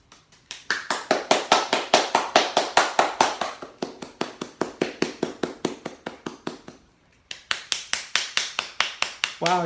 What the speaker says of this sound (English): That low, deep sound when you're clapping palm to palm. And then your fingers on your palm, how high it goes.